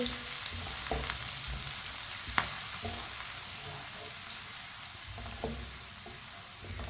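Finely chopped onion frying in oil in a pan previously used for chicken, a steady close sizzle with a few sharp utensil clicks and stirring scrapes scattered through it.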